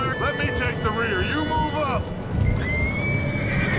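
A horse whinnies in Red Dead Redemption 2, its rising, wavering neigh standing out over busy ambient game sound with some background voice activity.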